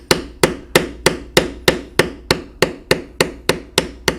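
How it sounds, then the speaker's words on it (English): Steady, evenly spaced mallet strikes on a leather beveling tool, about a dozen sharp knocks in a regular rhythm while beveling under the eye of a carved bear head, close and clear with no talking. "Now we'll do some more beveling underneath the eye"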